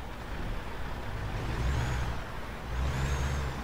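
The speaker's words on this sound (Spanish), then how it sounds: "vamos a enseñar cómo ruge este motor Caterpillar" The Caterpillar engine of a Kenworth T800 truck in American Truck Simulator gives a steady, deep rumble with a hiss like an air brake, loud and alone.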